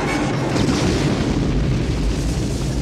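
An explosion in an Indiana Jones film scene comes as a loud, sustained, deep rumbling roar that fills the whole clip.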